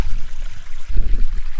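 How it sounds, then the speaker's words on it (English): Water gushes out of a cleared ditch in a close, steady burbling flow with low gurgles, loud and continuous, no voices. "So there's a lot of water here coming out"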